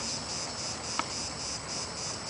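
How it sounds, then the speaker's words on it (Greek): Cicadas drone at an outdoor tennis match, a dense, continuous high-pitched buzz that pulses slightly throughout, with a single sharp click in the middle and no voices. "Μερικά τζιτζίκια μονάχα αλλοιώνουν τις βαθιές ανάσες και των παικτών"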